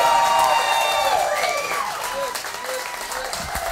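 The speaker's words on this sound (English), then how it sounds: "Ladies and gentlemen, thunderous round of applause." Loud audience applause and cheering at a comedy fundraiser show in a restaurant, a dense wash of clapping with whoops, fading slightly as it continues.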